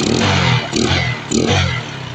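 A motorcycle engine with a 28mm carburetor being tuned revs in three quick, loud surges, each rise and dip close by with a rough, raspy tone and no talk.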